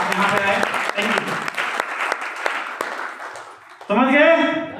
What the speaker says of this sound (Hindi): जोरदार तालियां हमारे पार्टिसिपेंट के लिए।